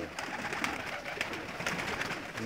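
Pigeons on a rooftop coo and murmur softly in a steady low warble, several birds close together amid faint outdoor ambience.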